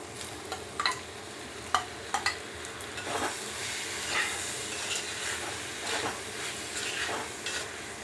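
Prawns with small pieces of capsicum and carrot frying in a pan, a steady sizzle with intermittent clinks and scrapes of stirring, fairly close and without talk.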